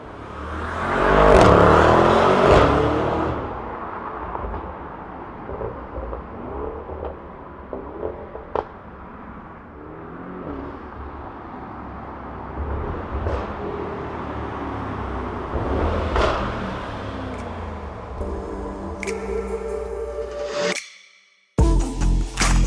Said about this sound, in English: giving you guys a little bit more exhaust note